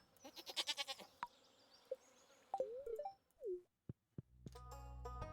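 Goat bleating in the farming game Stardew Valley, several quick wavering bleats close together near the start, then a few softer calls and short clicks, ending with a sustained tonal game chime.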